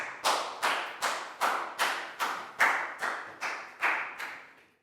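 About nine slow, evenly spaced claps during a school health lesson, each a crisp nearby smack with a short ringing tail, like a small group clapping in unison for a student.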